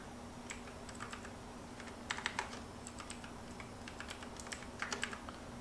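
A computer keyboard is typed on in short quick bursts of light clicks, with pauses between the groups, close and fairly quiet over a low steady hum.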